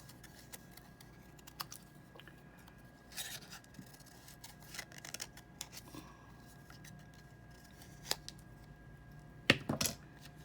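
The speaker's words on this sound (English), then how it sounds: "so we'll just go ahead and cut that off. Cut some of this all off." Paper snipped with scissors at a tabletop crafting session, short sparse cuts scattered through a quiet room, with a sharper, louder snip near the end.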